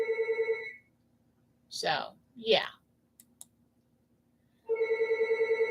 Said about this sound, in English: every time I get on this thing, the phone rings